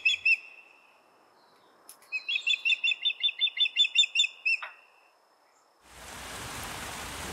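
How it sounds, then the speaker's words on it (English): High, thin calls of nestlings near fledging chirp in a rapid repeated series, fairly close, then fall quiet before a soft hiss of rain or wind rises. "Nearly ready to fledge, the nestlings test and strengthen their wings. And they're getting more vocal."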